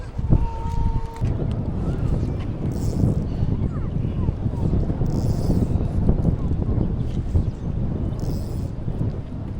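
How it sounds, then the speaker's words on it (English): Steady, gusty wind buffets the microphone outdoors while fly fishing, a loud broadband rumble that persists throughout, with a few brief tonal sounds near the start. "It's windy out here"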